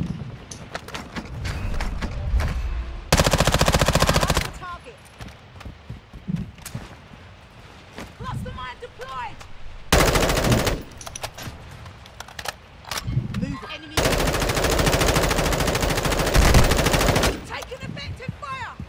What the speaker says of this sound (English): Getting shot from below.